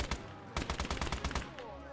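A machine gun in the World War II game Call to Arms: Gates of Hell fires one loud, rapid burst of evenly spaced shots, then stops.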